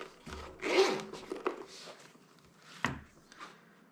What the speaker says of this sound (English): So let's unzip it.